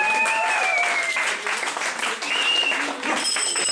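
Crowd applause at a fight night event in an indoor hall, dense clapping and cheering rolling steadily for several seconds, with a few whistles rising above it.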